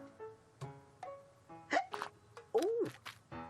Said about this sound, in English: Abney had caught the hiccups.